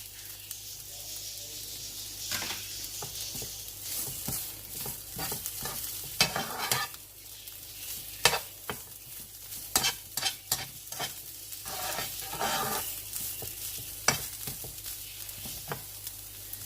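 Chicken and cabbage cooking in a pan for Chinese egg chicken rolls, with continuous soft sizzling and frequent scraping and clattering as a spatula stirs, close and moderately quiet, with no talking.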